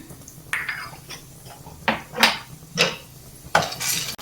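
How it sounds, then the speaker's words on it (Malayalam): Sunflower and pumpkin seeds tossed in ghee in a pan, heard as a series of sharp, close metallic scrapes and clinks at irregular intervals with quiet gaps between them and no voices. "അതിലേക്ക് നമുക്ക് സൺഫ്ലവർ സീഡ്സും പംകിൻ സീഡ്സും കൂടി ഇട്ട് റോസ്റ്റ് ചെയ്തെടുക്കാം"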